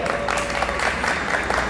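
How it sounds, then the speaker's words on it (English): Applause from an audience at an elementary school 5th grade graduation ceremony, a brief steady burst of clapping from a crowd indoors. "So we'll be applauding each class once they're finished."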